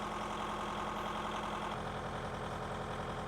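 A tractor engine idles steadily nearby with a low, chugging throb that shifts slightly partway through.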